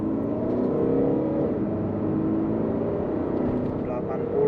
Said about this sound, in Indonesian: Udah pindah ke sport, kita gas